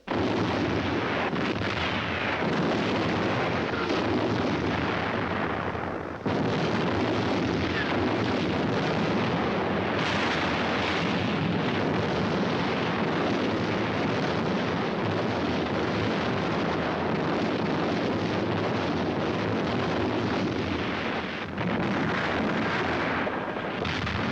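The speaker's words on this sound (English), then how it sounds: "For days, long-range guns hurled ton after ton of high explosives into the heart of the city." German long-range artillery shells Leningrad during the Second World War, a dense, continuous barrage of heavy explosions and rumbling blasts that stays loud and unbroken, with only brief dips.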